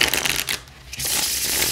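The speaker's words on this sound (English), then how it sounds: "And as always, they shuffle beautifully." A Dark Wood tarot deck is shuffled by hand, giving a brief riffling flutter of cards, a short pause, then another close, crisp run of shuffling.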